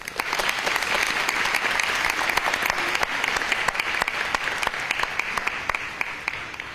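Audience applause for two teams at a game-show style competition, a dense, steady clapping from a crowd that holds loud and even throughout.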